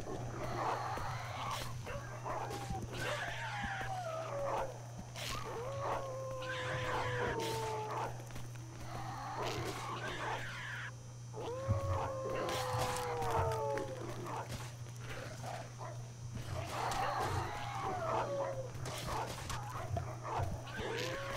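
A spiky dog-like creature in a multiplayer adventure game gives repeated yipping, whining barks with rising and falling pitch, coming in bursts over a constant low hum and ambient game sounds.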